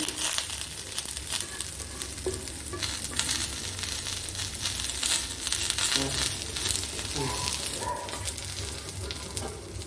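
Onion, garlic and tomato sizzle steadily in oil in a pan while murighonto is cooked, a dense continuous frying hiss with faint crackles and occasional utensil stirring, close and even throughout.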